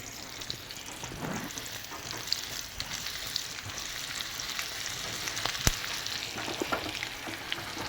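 Ginger and garlic frying in oil, a steady close sizzle with frequent small pops and crackles running throughout, with no voices over it.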